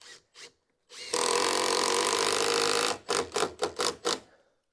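A power driver sets a screw into a bifold door frame on a garden room: a close, steady whirring run of about two seconds, then a string of short trigger bursts as the screw is snugged home.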